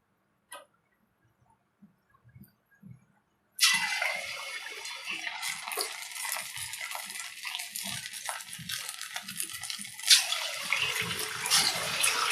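Dollops of homemade idli batter for punugulu fritters dropped into hot oil, bursting into a loud, steady sizzle and crackle that runs continuously, with a few faint clinks before the frying begins.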